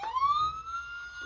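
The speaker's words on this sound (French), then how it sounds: "ça c'est pour ça c'est la sirène de Marcus" A short electronic siren tone from a toy Paw Patrol police car, sweeping upward, thin and toy-like, sounding once close by at moderate volume.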